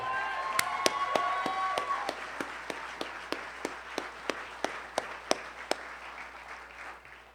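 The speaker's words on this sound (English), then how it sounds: "I want a good round of applause for Scott Holbrook, who made this happen." A concert crowd applauds for Scott Holbrook, a dense wash of clapping and some cheering that thins out into a run of single, evenly spaced claps, loud and near, before fading to near silence.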